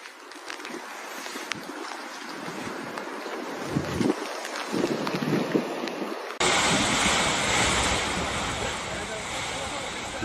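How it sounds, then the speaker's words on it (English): Storm-driven flash flood water rushing through city streets in Turkey's Zonguldak Province, heard as a loud, continuous roar of turbulent water and wind buffeting the microphone, with a sharper, brighter surge partway through. "Strong flows of water tore off parked cars and swept through the streets."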